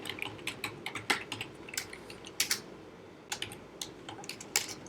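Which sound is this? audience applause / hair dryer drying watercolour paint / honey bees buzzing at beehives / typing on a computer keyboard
typing on a computer keyboard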